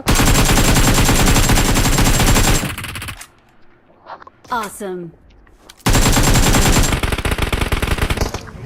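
Mobile video game gunfire on an iPhone 13: long, loud bursts of rapid automatic shots at the start and end, with a quieter gap where a voice briefly speaks.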